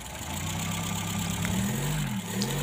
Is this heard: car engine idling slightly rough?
yes